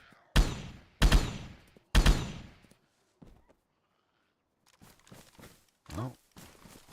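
Gunfire in the DayZ video game on the ChernarusPlus map: three loud, close shots in quick succession, followed by quieter scattered thumps and footsteps.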